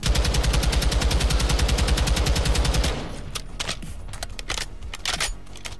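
Rapid automatic fire from a Taq 56 rifle fitted with an FTAC Ripper grip in MW2, a loud continuous burst for about three seconds that cuts off into scattered clicks and rattling handling sounds.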